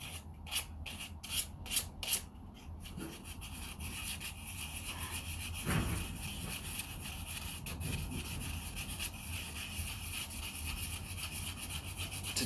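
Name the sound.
hand sanding a wooden pipe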